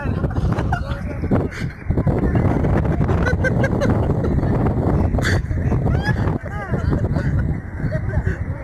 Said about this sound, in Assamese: তাৰমানে চাওকচোন কেনেকুৱা বতাহ